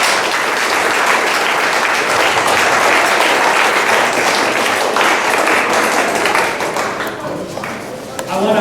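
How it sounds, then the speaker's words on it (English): Sustained loud applause from an audience at a high school cross country awards gathering, dense clapping that fades slightly near the end. "So kids, if you don't mind giving your folks a round of applause."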